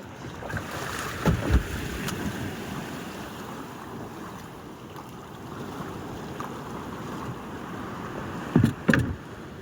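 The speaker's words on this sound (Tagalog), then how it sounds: "Lalaki ng alon din oh" Waves slap and wash around a small boat on the open sea off Munting Buhangin, with steady wind buffeting the microphone and a few louder splashes near the start and end.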